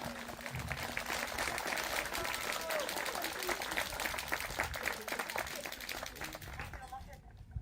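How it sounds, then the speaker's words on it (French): Crowd applause at a blind football (cécifoot) Grand Prix match in Oise, a steady wash of many hands clapping for about seven seconds over talk, then cutting off abruptly. "Bravo, on peut applaudir."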